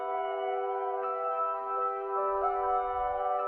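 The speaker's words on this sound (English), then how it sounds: "I duplicated the sample and I pitched it up 12 semitones or an octave" A bass sample pitched up an octave into a smooth, steady tone of held notes, sustained alone for several seconds with a slight low rumble near the end.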